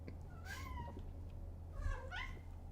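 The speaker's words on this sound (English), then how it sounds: "You're a loud cat, I know." A pet cat meowing loudly indoors, two drawn-out rising-and-falling meows about a second apart, close and clear over a low steady hum.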